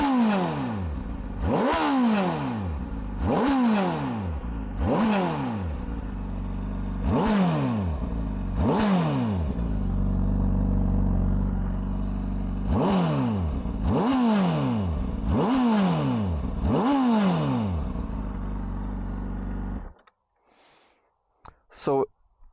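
A warm Honda CBR600RR inline-four 600cc motorcycle engine with a stock exhaust revs sharply again and again, each rising whine dropping back, about a dozen loud bursts in close succession before it cuts out.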